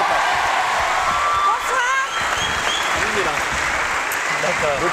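A French television studio audience applauds a guest's entrance: thick, continuous clapping with a few whoops and voices mixed in throughout.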